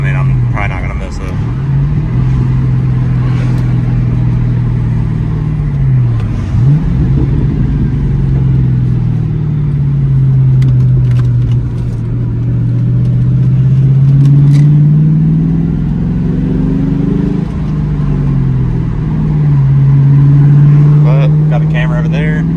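A Ford Mustang GT V8 with its catalytic converters still fitted drones steadily while driving, a loud low exhaust note rising and falling with throttle changes over about twenty seconds.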